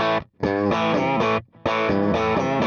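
An electric guitar played through the AC30 amp preset of a Valeton GP-200 rings out in loud, distorted chords with chorus-like shimmer, broken by two brief pauses.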